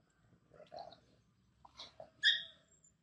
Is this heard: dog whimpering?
yes